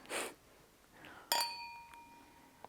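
Two wine glasses clink once for a toast, a bright, close chime that rings out and slowly decays, preceded by a soft rustle and quiet breathing.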